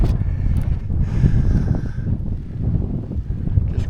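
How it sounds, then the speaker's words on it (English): Strong, steady wind buffets and roars across the summit of Mount Hood, a low gusty rumble that fills the whole stretch with no voices. "get down because it's pretty windy up here"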